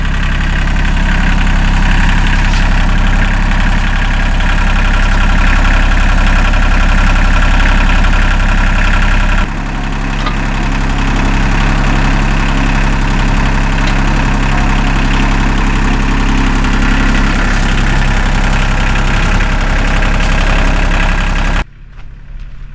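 A tractor engine idles while attachments are fitted during land clearing, a loud steady low rumble with constant vibration for over twenty seconds, briefly shifting in tone midway before cutting off near the end.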